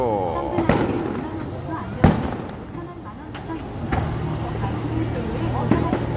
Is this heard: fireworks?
yes